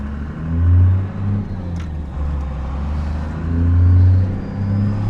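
A Toyota fitted with a 4-cylinder diesel engine pulls away on a drive along the John Day River, its low engine rumble swelling and easing in two broad surges, steady and fairly loud, with no voices.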